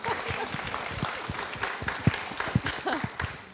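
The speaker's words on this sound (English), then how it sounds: "So a round of applause." Audience applause at a panel event on luxury fashion and sustainability, moderate clapping from a room with a few louder individual claps standing out.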